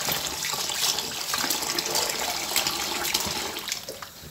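Goat and chicken meat rinsed under a running kitchen tap: a steady, close, broadband rush of water splashing over the meat, continuous and fairly loud throughout, with no speech.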